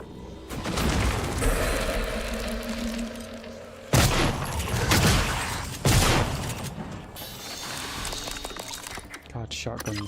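Shotgun blasts in the sci-fi shooter Prey, two heavy booming shots a couple of seconds apart over mechanical game noise, with a voice talking throughout.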